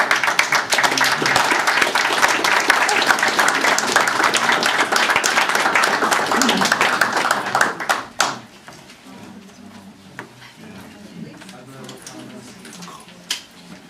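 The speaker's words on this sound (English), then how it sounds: "we should give our board members a nice round of applause" Audience at a school district board meeting giving board members a round of applause, sustained clapping for about eight seconds that stops abruptly, leaving a quiet room with a few faint sounds.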